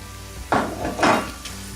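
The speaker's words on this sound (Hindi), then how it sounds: "लो फ्लेम पर मैं इसको खोए के साथ भी भूनती जा रही हूँ।" Egg halwa being fried with khoya in a pan over a low flame, giving a steady soft sizzle with two louder bursts of frying and stirring, close by and with no talking.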